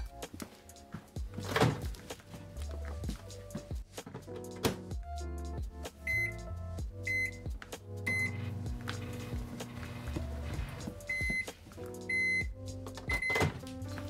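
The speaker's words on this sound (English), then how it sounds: "So I am going to put this in my microwave, and I'm going to go about 45 seconds." A microwave oven hums steadily while cooking a keto chocolate chip brownie mug cake, a faint continuous drone with scattered clicks and thunks over about fourteen seconds, with no talking.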